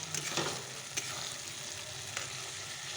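Spices sizzle and fry in a pan for chicken curry while being stirred, a steady close crackle with a few scraping strokes.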